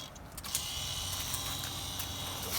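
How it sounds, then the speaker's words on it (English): Steady electric whirring hum of a car's ABS pump running just after the ignition is switched on, on a V8-swapped Toyota FJ, a constant mechanical drone with a faint ratcheting buzz throughout, fairly close. "The noise you hear is the ABS pump."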